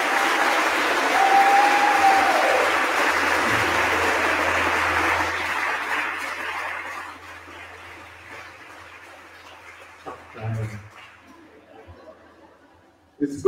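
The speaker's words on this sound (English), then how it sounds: "Give them a round of applause." Applause from the audience at a county State of the Address in Kauai, a broad wash of clapping and murmuring voices that is loud at first, then fades over several seconds into quieter room noise with a few scattered sounds.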